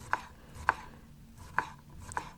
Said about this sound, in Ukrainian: Огірок теж нарізати маленькими такими смужками.